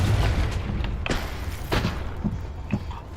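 A Confringo spell explosion in the Hogwarts Legacy video game: a burst of booming thuds with several rapid follow-up impacts, loud and close, with no talking over it.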